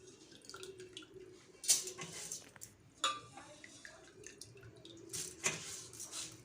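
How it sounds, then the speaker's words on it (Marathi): Rinsed rice drains its water through a sieve while making jaggery anarse, an Indian sweet, giving soft, irregular drips and trickles with a few louder splashes over a quiet kitchen background. "हे तांदूळ जे आहेत एका चाळणीमध्ये काढून घ्यायचे आहेत पाच मिनटाकरिता यामधील पूर्ण पाणी निथरण्याकरिता"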